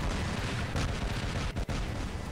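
Robot weapons fire in the War Robots game as a dense, continuous roar of heavy gunfire and blasts, loud and unbroken apart from a brief dip.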